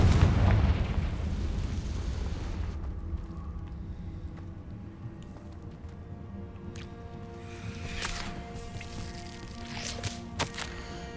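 Confringo blasting-spell explosions in Hogwarts Legacy: a heavy boom bursts at the start and rumbles away, followed by quieter scattered pops and crackles.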